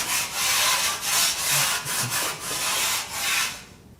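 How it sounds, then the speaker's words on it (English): A red Scotch-Brite pad scrubs metal on a 6.0 Powerstroke engine part in rhythmic, close-up back-and-forth rasping strokes, about a dozen in quick succession. "is going to be just some red Scotch-Brite. And we're just going to attack this from all angles."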